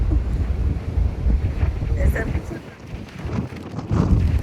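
Strong wind rushing past the microphone on a ferry deck between Vancouver and Victoria, British Columbia, with a low rumble of the boat engine and water, voices faintly heard beneath.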